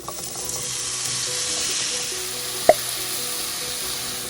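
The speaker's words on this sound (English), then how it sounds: "Apples are done, and now they are going to go into the skillet and start to cook." Sliced apples frying in butter in a skillet sizzle steadily up close, with a brief sharp clink of a utensil partway through.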